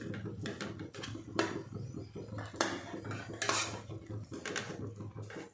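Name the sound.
mixing leftover rice with pickle and salt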